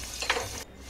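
Onions and green chillies sizzle in a pan with a pinch of salt as they are stirred, a brief scrape of stirring over steady frying hiss that cuts off sharply near the end.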